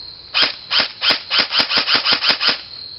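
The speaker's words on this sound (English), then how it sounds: "just shooting on semi-auto but fast, it doesn't get all the BBs" Tokyo Marui airsoft gun fired fast on semi-auto through a tracer unit: about ten sharp, loud, evenly spaced pops in quick succession, close and without talk.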